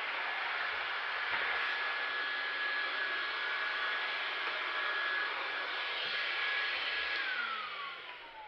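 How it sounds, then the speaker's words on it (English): A vacuum cleaner that is not working well runs at a constant loud hissing roar on a vinyl tile and hardwood floor job, with a steady whine that dips as it winds down at the end. "Vacuum not working too well."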